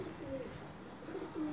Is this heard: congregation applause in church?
no